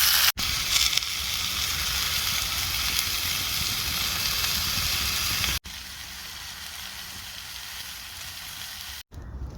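Food frying in a pan on a camping stove outdoors in frosty weather, a loud steady hiss and crackle of sizzling that drops to a quieter simmer partway through, broken by brief handling clicks.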